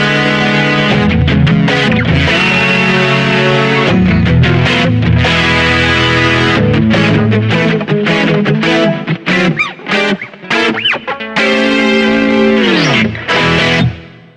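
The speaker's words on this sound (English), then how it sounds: "On how to get really great Hex Fuzz tones from the Boss GP-10" Electric guitar run through a Boss GP-10 guitar synth set to a hex fuzz distortion tone, playing loud sustained distorted chords and notes, with clipped stabs and short gaps toward the end.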